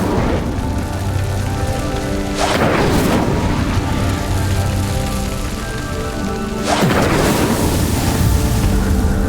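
A fire spell cast in Hogwarts Legacy on the Nintendo Switch: a steady roaring, crackling whoosh of flames, with two sharp bursts of louder flaring midway and near the end, no voices over it.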